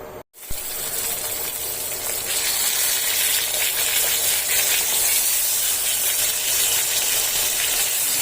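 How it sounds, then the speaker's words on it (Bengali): Fish rubbed with salt and turmeric dropped into very hot oil and fried on a high flame, a loud, dense, steady sizzle that erupts after a short silence and keeps going. "মাছগুলো হাই ফ্লেমেই ভেজে নিচ্ছি।"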